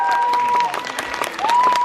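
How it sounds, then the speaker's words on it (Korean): A cinema audience at a post-screening talk at CGV Apgujeong applauds to welcome a guest: dense, steady clapping close by, with a thin sustained tone running through parts of it. "박수로 맞이해 주시죠."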